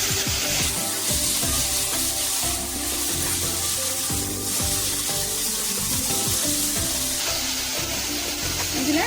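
Mudakathan keerai greens being washed by hand in water in a kitchen, with a steady splashing, running-water wash continuous throughout at close range, mixed with clattering of a vessel.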